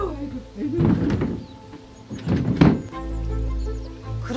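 A heavy thunk like a door being shut hard, standing out from muffled background noise and low rumble, with no speech.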